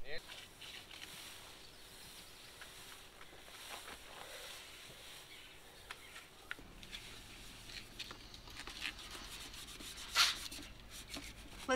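Sanding on a school bus body before painting, a soft, steady rubbing and rasping that continues throughout at low level, with brief knocks and light background noise.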